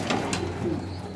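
Pigeons coo nearby in a soft, steady low murmur, with a couple of brief higher calls over a constant background hum.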